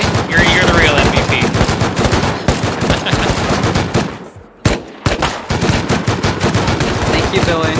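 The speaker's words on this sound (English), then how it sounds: "One at a time, one at a time. Take turns shooting." Rapid automatic gunfire from the video game Rust crackles in loud, dense bursts, with a brief near-silent gap and a single sharp shot before the firing resumes, and players talk faintly underneath.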